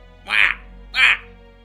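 Two loud, nasal quacking calls from a person imitating bird noises, each about a quarter second long, spaced roughly half a second apart, close and clear against a quiet background.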